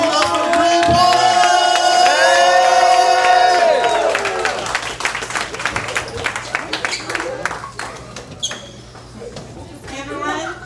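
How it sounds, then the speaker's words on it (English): Crowd applauds and cheers loudly for Barbara Dahlgren of the Greater Milwaukee Green Party at a people's convention, with whoops and voices over dense clapping that thins out into scattered claps and talk near the end. "Can y'all give a round of applause for our sister Barbara?"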